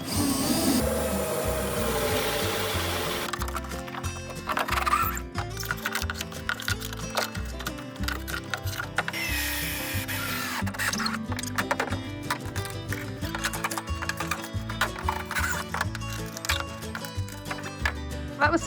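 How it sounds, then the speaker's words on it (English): Power drill boring holes through a Siren 17 sailboat hull during restoration, a long stretch of rattling, whirring bursts with irregular stops and starts, mixed with clatter and faint background talk. "Got our 5 holes drilled."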